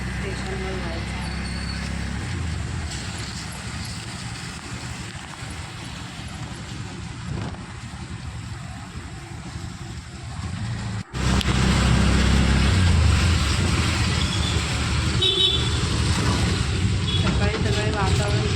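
Auto rickshaw ride through road traffic on the way to a station on a morning with light rain, with a steady engine drone and passing vehicles that grow suddenly louder partway through.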